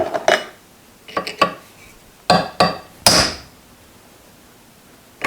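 Sharp metallic hammer blows on a Logan 820 lathe spindle ring out one at a time, about six strikes at uneven intervals, close and loud with a brief ringing tail, silence between.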